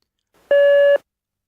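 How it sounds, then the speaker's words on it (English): A single answering machine beep, a clean steady electronic tone lasting about half a second, loud and isolated in silence. "Wait for the beep."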